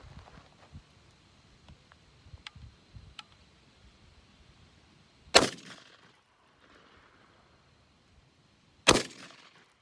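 Two sharp, loud blasts from a CZ Hammer Classic 12 gauge shotgun shooting pop cans outdoors, spaced several seconds apart, each with a short ringing decay, between quiet stretches with faint shuffling and small knocks.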